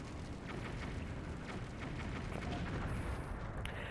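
Explosions in the Wii game Twilight Princess form a faint, continuous low rumble with crackling bursts rolling through it at a distance.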